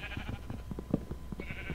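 Sheep in the video game Minecraft bleating faintly, a few short wavering calls in quick succession over low game background sound.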